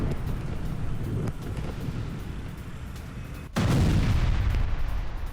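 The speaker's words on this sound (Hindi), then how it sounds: "लावीजान में सैन्य बंकर पर आईडीएफ की बमबारी" Bombs from an Israeli strike hit a military bunker in Lavizan, Iran: a muffled distant thud, then a sudden louder low blast that leaves a rumbling roll under wind noise.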